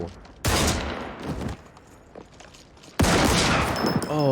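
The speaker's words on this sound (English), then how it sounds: "Oh, that's where he got shot at right there." Gunfire from a Better Call Saul episode: two loud, sudden bursts of shooting, each lasting about a second, with quieter rumbling between them.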